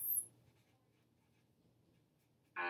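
A pen or pencil writing on paper: a short scratchy stroke at the start, then near silence, then another sharp scribble at the end, close and quiet.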